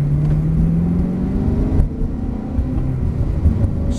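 A Ferrari 360 engine drones close by as a 15-year-old drives it around a cone course, a steady rumbling note rising slightly in pitch under continuous road noise.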